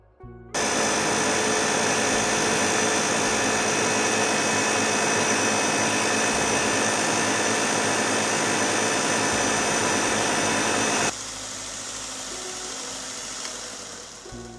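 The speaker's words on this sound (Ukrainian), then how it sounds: "Мініатюрна стрічкова шлифувальна машина гриндер поєднує в собі якість, функціональність і зручність використання" A 150 W mini belt grinder for sanding and polishing runs with a steady, loud motor whine and belt hum for about eleven seconds, then cuts off, leaving a quieter tail.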